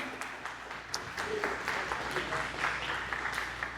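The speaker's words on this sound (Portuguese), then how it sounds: "Pode aplaudir a ele." A church congregation claps during a sermon, a soft, continuous patter of many hands heard from a distance, with voices mixed in underneath.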